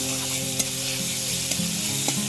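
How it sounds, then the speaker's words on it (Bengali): Chopped chicken fries with spice paste in a pan for chicken ghugni, giving a steady, close sizzle. A few sharp scrapes and knocks from stirring break through the hiss. "আমি কিছুটা চিকেন কুচি কুচি করে কেটে নিয়েছি এবার এটা দিয়ে দেবো দিয়ে এবার আমি একসঙ্গে ভালো করে কষিয়ে নেব"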